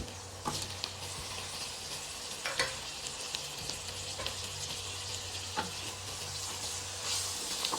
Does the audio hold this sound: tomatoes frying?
yes